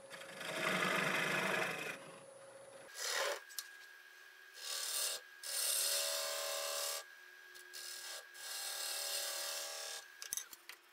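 Wood turning on a lathe as a piece is rounded freehand, with bursts of rough, scraping cutting noise over a steady whine, stopping and starting in several close, fairly faint passes.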